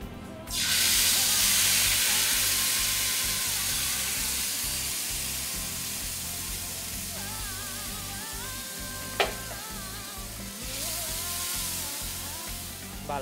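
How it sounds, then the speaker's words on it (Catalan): Picada added to hot oil already used for frying in a casserole, cooking a potato and fish arrossejat, gives a steady loud sizzle and hiss that holds throughout with a brief sharp clink near the middle. "amb la mateixa cassola que hem fregit la picada, aprofitarem aquest mateix oli i que on estigui ben calent afegim la picada"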